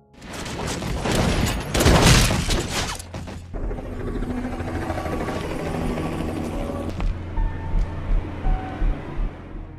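A loud, close burst of gunfire from police in a movie shootout, dense and booming at first, then a long rumbling background with faint tonal sounds and a few softer pulses at the end.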